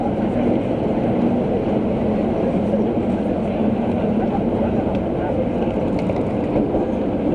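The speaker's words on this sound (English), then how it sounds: "It's a really fantastic inverted coaster." A steady, loud rumble of an inverted roller coaster train at Busch Gardens Tampa, running continuously with a low roar and a faint rhythmic clatter, with no break across the whole stretch.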